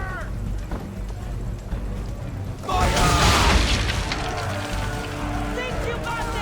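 Swivel guns blasting powder barrels in Assassin's Creed 3, a loud boom burst at around three seconds swelling over a busy background of game ambience and music, then settling into a sustained rumble.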